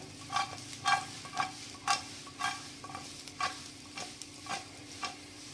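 Egg 65 fritters stirred and roasting in a hot pan, a spatula scraping and clacking in a steady rhythm of about ten sharp strokes over a low frying hiss, close and fairly quiet.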